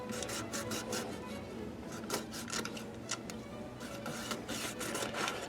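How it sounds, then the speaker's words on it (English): A hacksaw cutting through a thick plastic sprue to free a Carnevale miniature figure, heard as a steady, close run of rasping strokes with repeated sharper bursts and no talking. "You got to hacksaw that thing down."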